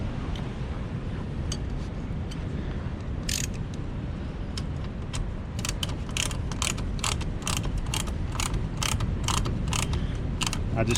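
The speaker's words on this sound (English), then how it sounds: "I just tighten them up until they're good and snug." A ratchet mechanism tightens camper wheel chocks, its rapid metallic clicks coming in short bursts that grow busier and more regular, close by and fairly quiet, with no talking.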